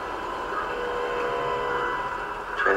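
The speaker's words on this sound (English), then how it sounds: "Train has stopped." Train in the video game Star Wars Jedi Fallen Order, a steady rumbling and humming ride that winds down as the train stops, with a metallic clank near the end and no speech.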